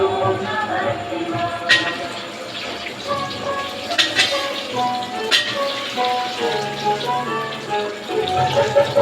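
Bay leaf sizzling and crackling in hot oil while being stirred for a Kali Puja bhog dish, a steady bright frying hiss with scattered pops and utensil scrapes, close and continuous.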